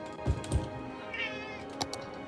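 A cat on a desk gives a soft, drawn-out meow nearby, surrounded by a few faint keyboard and mouse clicks in a quiet room.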